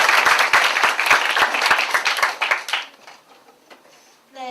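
An audience at a youth debate contest breaks into loud, dense clapping that lasts about three seconds and then quickly thins out and fades, heard close in an indoor hall.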